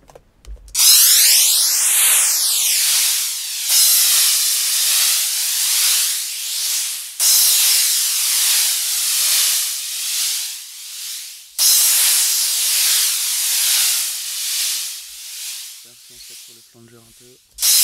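Synthesized psytrance crash noise with a flanger effect, loud bright hissing white-noise bursts with sweeping whooshing comb tones, restarting in several long swells and ending with a brief buzzy tail, no talking.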